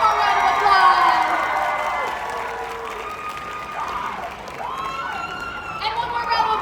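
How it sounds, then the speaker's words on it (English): Convention crowd at an anime event awards stage applauds and cheers, a steady wash of clapping with scattered whoops and a voice over a PA rising and falling above it throughout. "One more round of applause."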